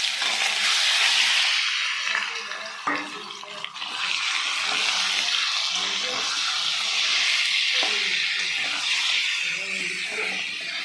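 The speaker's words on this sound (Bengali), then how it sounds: "কড়াতে তেল দিয়ে দিয়েছি, তেলটা কিন্তু গরম হয়ে গেছে। এবার এই চিকেনটা দিয়ে আমি একটু সেদ্ধ করে নিচ্ছি।" Chicken pieces frying in hot oil in a wok, a steady close sizzling hiss that carries throughout while someone talks over it.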